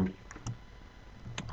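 Computer keyboard typing, a few sparse quiet key clicks spread across a second and a half, close and faint against low room noise.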